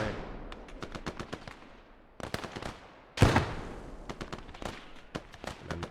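Loud grenade explosions in the Gates of Hell: Ostfront war game, set against bursts of rifle and machine-gun fire, with one big blast standing out midway and smaller cracks continuing after it.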